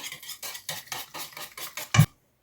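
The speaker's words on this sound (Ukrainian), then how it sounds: "Зараз кефір з яйцями треба трошки збити." Kefir and eggs being whisked in a bowl for dumpling batter: about nine quick, even strokes of a utensil scraping and tapping the bowl, ending in one louder knock, close and alone.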